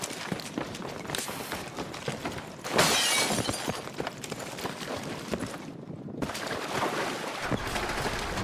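Something breaking in the Battlefield RedSec battle royale, a bright crashing shatter burst amid busy footsteps and game noise, with a short near-silent gap later on.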